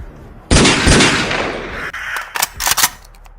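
Gunfire aimed at a flying craft in a film: a loud, sustained blast erupts and slowly decays, then several sharp, quick shots crack out near the end, with no voices.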